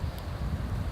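Outdoor wind buffeting on a breezy day, a soft, uneven low rumble of gusts against the microphone with no talking.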